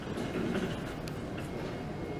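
A Toronto Line 2 subway train rumbles steadily at Kennedy Station, the terminus, a low continuous drone with faint rattling and a few high metallic squeaks.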